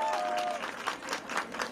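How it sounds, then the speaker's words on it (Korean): A crowd of young mothers cheering and applauding at an outdoor political campaign rally in Seoul, heard as a steady wash of clapping and voices, with a brief tone at the start. "우리 젊은 엄마들은 제가 이 얘기하니까 아주 뜨겁게 환호하시네요"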